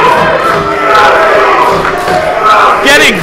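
A UWA Elite wrestling crowd cheers and roars loudly and continuously, with swelling shouts and whistles throughout and a commentator's voice faint in the mix.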